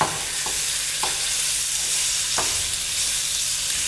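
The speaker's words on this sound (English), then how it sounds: "So as you cook it, you stir the meat around." Marinated beef strips stir-frying in a pan, a loud, steady sizzle with a few soft knocks of the utensil moving the meat around.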